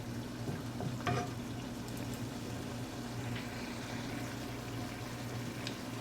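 Soup noodles bubble in a pot with a steady, low simmering burble that runs without pause, with a faint clink near the start and scattered soft pops over a constant watery hiss.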